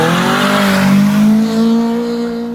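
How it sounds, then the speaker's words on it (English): Revving engine of a VW MK2 GTI fitted with motorcycle carburetors, rising in loud, steady harmonic tones as it spins up quickly, heard close and alone without voices. "It actually throws everybody for a loop when they hit the gas the first time, how quick it actually revs up."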